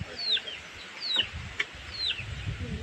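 Chickens clucking and calling nearby, three short rising squawks spread over a few seconds against a light outdoor background, with some faint rustling between them.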